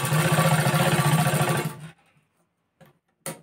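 A sewing machine stitches a half-inch seam on a blouse cup, running loud and steady with a dense mechanical whir for under two seconds, then cutting off into near silence broken by two brief clicks.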